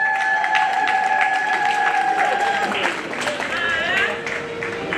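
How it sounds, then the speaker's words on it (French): A wedding crowd at a religious marriage ceremony applauds and cheers for the couple, steady clapping throughout under sustained singing or ululating voices and sliding tones. "Le temps d'acclamation pour vous-même."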